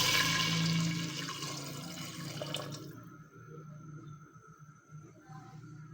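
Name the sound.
pouring water into rosh cooking pot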